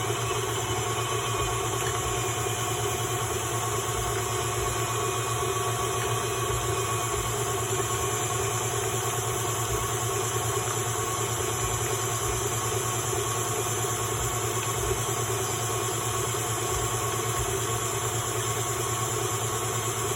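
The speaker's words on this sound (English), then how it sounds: "we're going to still keep going and mixing it on high speed till we form peaks" An electric mixer runs on high speed whipping a sugar mixture for macarons, a steady droning whir with a constant motor hum and faint rattling, unbroken for the full stretch without any voices.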